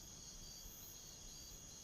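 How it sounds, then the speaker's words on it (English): Crickets chirp in a steady, continuous high trill with no voices. "Crickets."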